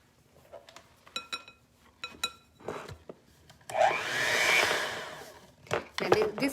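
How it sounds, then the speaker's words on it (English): Light clatter and scraping in a small bowl, then an electric hand mixer whirs loudly for about two seconds through gluten-free gingerbread cookie dough, followed by more handling clatter. "we're gonna use the mixer and mix this up again."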